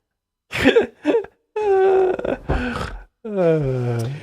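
Two short coughs, then a person talks with an exaggerated, groaning voice.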